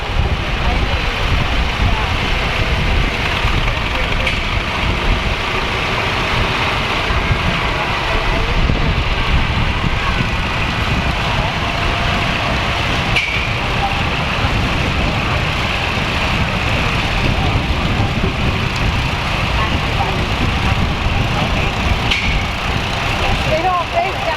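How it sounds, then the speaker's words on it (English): An Allis Chalmers 917 Hydro garden tractor from 1985 to 1990 runs steadily outdoors at a threshing show, a continuous low engine drone mixed with wind noise on the microphone and an announcer talking over it. "This next tractor, driven by Maxwell Edwards, is a 917 Hydro Allis Chalmers"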